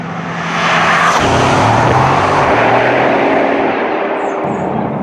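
A Bugatti Chiron hypercar drives slowly along a road in Portugal, its loud, steady engine and road roar filling the whole stretch after a quick rise at the start.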